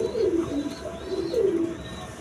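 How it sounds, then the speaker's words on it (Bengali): Two clear, rolling coos from a pair of high-flying pigeons, one a blue-eyed pied hen, sound close and loud with little else around. "এখানে আরেক পেয়ার আছে হাই ফ্লাইং কবুতর"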